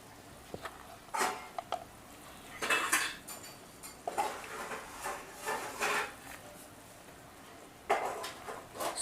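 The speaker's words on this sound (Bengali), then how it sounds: "এবার আমি ভেজে রাখা মাছগুলো এক এক করে এই ঝোলের মধ্যে দিয়ে দেব।" Fried silver carp pieces go one by one into a simmering fish curry in a pot, heard as several clattering knocks and scrapes of utensils against the pot in separate bursts, close and fairly quiet, with no speech.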